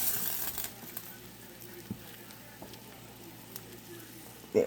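Fresh tortellini sizzle softly in a pan as they are moved around, a steady low crackle with a few scraping knocks and a sharper clatter at the end.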